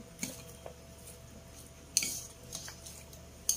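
A utensil stirs pork and tofu sisig mixed with Japanese mayo, making quiet, sparse metallic clinks and scrapes against a pan. A few sharper taps stand out.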